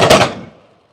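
A volley of musket fire at a Relief of Derry commemoration reenactment: one loud, close blast with a sharp crack that rolls off and fades quickly into silence.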